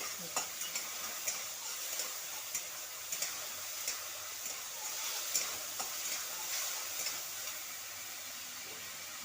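Mourala fish with salt and green chillies sizzles steadily in a hot pan for a sour curry, a soft continuous hiss broken by light periodic clicks of stirring.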